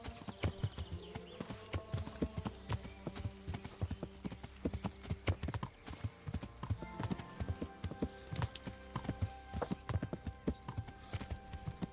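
Horse hooves clip-clop in a steady gait while the horse is ridden in a medieval video game, a close, rhythmic stream of sharp knocks that continues throughout.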